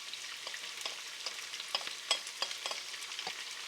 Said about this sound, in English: Then sauté the vegetables, the carrots, the onions, and the garlic.